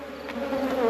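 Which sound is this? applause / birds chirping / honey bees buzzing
honey bees buzzing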